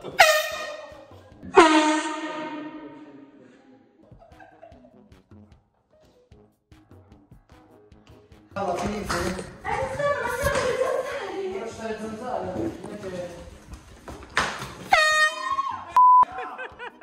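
A very loud stadium air horn blasts twice at the start in long, piercing honks, then fades; later bursts of commotion, voices and a third horn blast follow.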